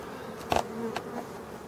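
Bees buzz around hives in a forest, a steady close drone with a couple of brief louder passes as individual insects fly near, no voices.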